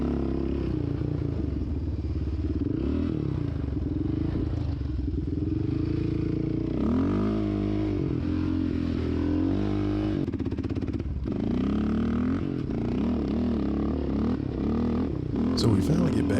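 An ATV engine drones and revs steadily while riding muddy trails, rising and falling in pitch with some clatter, and a voice talks over it.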